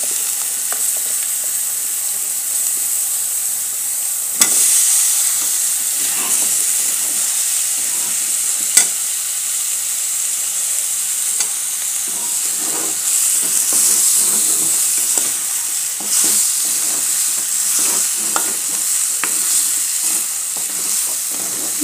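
Drumstick vegetable pieces fry in hot oil and red chilli powder in a pan in a village kitchen, giving a loud, steady sizzle broken by occasional scrapes and clinks of stirring, with no talking.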